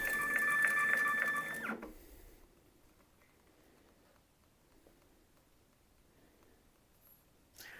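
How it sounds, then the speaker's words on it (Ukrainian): An iDPRT iT4B 203 dpi label printer runs briefly at the start, giving a loud whirring, tonal buzz for about two seconds. After it stops, only quiet room noise remains until a short knock at the end. "Давайте зараз спробуємо роздрукувати етикетки за допомогою даного принтера."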